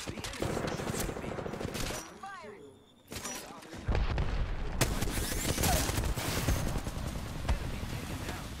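Enemy gunfire in a shooter video game crackles in dense, rapid bursts that briefly thin out, then resume at full intensity, with game voices mixed in.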